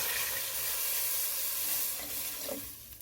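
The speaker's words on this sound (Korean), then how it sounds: "이제 물을 붓는데요" Water poured into a pot of pollock and bean sprout soup base gives a continuous rushing, hissing pour with some sizzle, fairly close and loud, easing off near the end; no talking.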